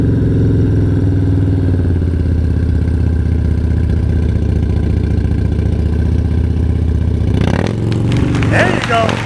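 A motorcycle engine chugs at low revs during slow-speed riding practice in Ohio, a steady, close mid-pitched putter that breaks into clattery noise near the end.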